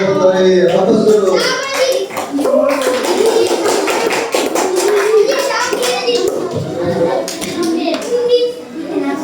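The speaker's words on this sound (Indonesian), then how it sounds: "kasih aplaus dulu" Children in a classroom break into a sustained burst of clapping, loud and close, with young voices calling and chattering over the applause throughout.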